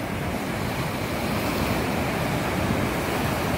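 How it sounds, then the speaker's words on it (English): Huge ocean waves crash and roar on a beach in Mexico, a dense, loud, unbroken wash of surf with wind buffeting the microphone and no voices. "Humongous waves, crazy undercurrent that will suck you out there"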